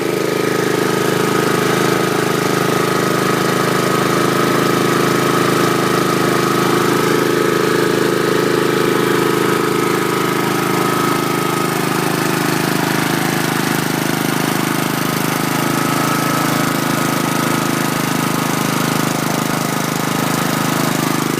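A 2011 Troy-Bilt push lawn mower with a Honda engine runs close and loud for the whole stretch. Its engine drones in a smooth, even idle through a quiet muffler, with no speech.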